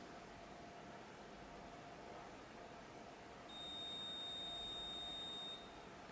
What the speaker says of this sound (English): So once you hear the buzzer, that means the firmware has been updated and the camera turns off.